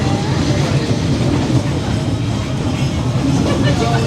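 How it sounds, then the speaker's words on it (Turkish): A passenger train rolls past at night in Hanoi, a loud, steady low rumble with rail clatter filling the whole stretch, close by, with people talking faintly beneath it. "Bazen yolcu bazen yük treni geçiyor. Ha. Bu galiba yolcu treni."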